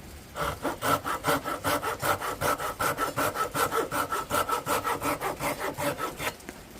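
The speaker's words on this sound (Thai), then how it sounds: "มาเดี๋ยวมาลองดูแบบเลื่อยแบบ ตั้งใจเลื่อยแบบไวๆนะครับ" A Japanese folding hand saw cuts quickly through wood, with about twenty fast, even back-and-forth strokes rasping in a steady rhythm before stopping.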